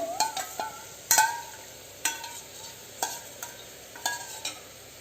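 Biryani masala for a soya chunk biryani sizzling in a pot as water goes in, with loud, close stirring strokes scraping roughly once a second over a constant frying hiss.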